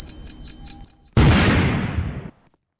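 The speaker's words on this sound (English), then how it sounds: "Is that in the game, Alex? The beeping?" An electronic alarm beeps in a fast, evenly spaced series during an online shooting game, followed by a loud explosion-like burst that fades out.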